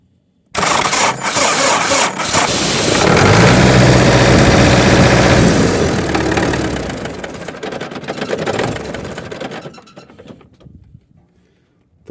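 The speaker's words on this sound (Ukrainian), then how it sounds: "Зараз ось показую, як воно заводиться." An MTZ-80 tractor engine with a newly fitted starter cranks and fires up, roaring loud and close, then settles into a rough idle before cutting off.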